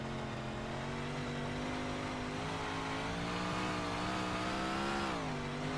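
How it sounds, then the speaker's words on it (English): Race car engine in the iRacing video game, revving steadily at high RPM along a straightaway, a continuous droning whine that climbs slightly in pitch toward the end, alone without talk. "It kind of seems like he gets up to a lot higher RPM on the straightaway."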